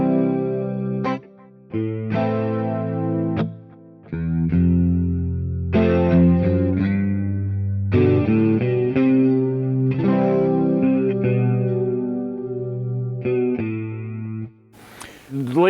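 Electric guitar in an old-school stereo rig, played through chorus and delay effects. Sustained, ringing chords and notes swirl and spread wide, each phrase separated by short gaps and left to trail off.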